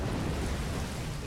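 Acid Rain ability effect from the Age of Wonders Planetfall strategy game: a steady, dense rain-like hiss with a low rumble, fairly loud and continuous for the whole moment, with no voices.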